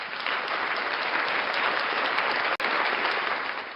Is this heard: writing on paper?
no